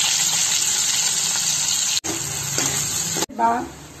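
Mustard, fenugreek, cumin and onions fry in hot oil for a Telugu fish curry, giving a steady loud sizzle with two brief cutoffs and a short voice near the end.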